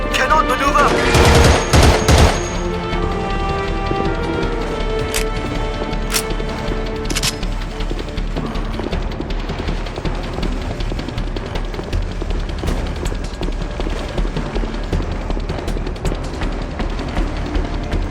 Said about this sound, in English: We are halted by enemy fire!